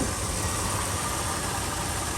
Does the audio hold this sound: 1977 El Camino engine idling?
yes